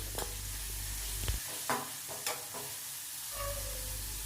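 Chopped vegetables frying in a pan for vegetable and soya fried rice, a low sizzle punctuated by a few sharp spatula scrapes and knocks against the pan.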